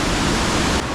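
Rushing flood water after a severe storm pours in a loud, dense, continuous roar, close and unbroken.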